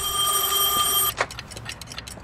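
An old telephone rings inside the Heavy Rain video game, one sustained bright metallic bell ring of about a second that cuts off abruptly, followed by soft handling clatter.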